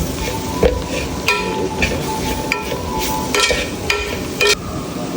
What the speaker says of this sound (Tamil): மசாலாவில் உள்ள பச்சை ஸ்மெல்லாம் போகிறது வரைக்கும் மிளகா வந்து கிண்டி விட்டுருவோம்